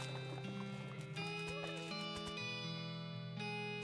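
Horse hooves clip-clopping and a wavering neigh from a horse in the West of Loathing video game, layered over twangy western game music with steady tones throughout.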